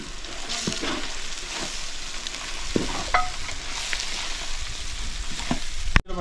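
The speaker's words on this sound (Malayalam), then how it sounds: "നമ്മൾ മൂപ്പിച്ചെടുത്ത തേങ്ങാക്കൊത്താണ് ഇത് നമുക്ക് നന്നായിട്ട് ഇളക്കി കൊടുക്കാം" Roasted coconut pieces are stirred in a frying pan for a chicken curry, a close, continuous sizzle with repeated scraping strokes and a sharp knock near the end.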